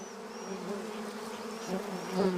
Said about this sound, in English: A never-ending hum resonates from within the cleft. It's the perfect spot for these stingless bees